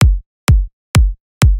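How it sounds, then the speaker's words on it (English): Four punchy future house kick drum hits land evenly about half a second apart, each a deep booming thump with a sharp click at the front, played alone with silence between them. "Start with a simple four on the floor kick pattern."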